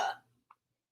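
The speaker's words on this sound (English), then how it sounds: "With a burp" A storyteller voices a warthog's loud, throaty burp, one short burst that fades quickly, followed by a faint click and a brief soft sound near the end.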